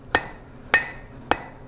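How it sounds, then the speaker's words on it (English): Three heavy blacksmith's hammer blows ring out on hot steel on an anvil while an S hook is being forged, sharp metallic strikes spaced about half a second apart with short ringing decays, close and alone. "Start in the back with some heavy hammer blows, and then lighten them up as I move forward."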